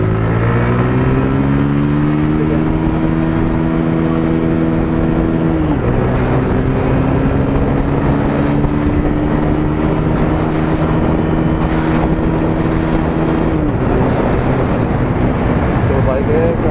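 A Bajaj Pulsar 125 motorcycle engine revs hard in first gear, its loud steady drone climbing in pitch, dropping sharply at a shift-like dip, then climbing again and dipping once more, continuous and close throughout.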